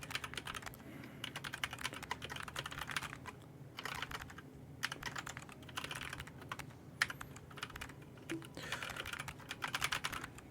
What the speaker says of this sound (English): I'll describe what I mean after I'm done typing this.